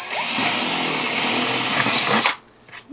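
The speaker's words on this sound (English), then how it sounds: "Let's drill a hole." A close power drill whines loudly and steadily for about two seconds while drilling a hole for a chicken coop, then stops abruptly, leaving brief quiet handling noise.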